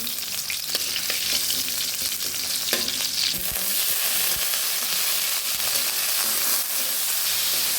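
Sliced onion drops into hot oil already holding cinnamon and cardamom for haleem, setting off a continuous sizzling hiss that swells brighter partway through and carries on steadily with a few light stirring clicks, close by and without talk.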